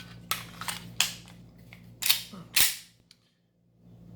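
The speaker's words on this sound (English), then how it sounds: "Let's put a snap cap in there" Sharp metallic clicks and snaps ring out as a 9mm snap cap dummy round is loaded into an SD9VE pistol, four or five crisp close impacts over a few seconds, then quiet.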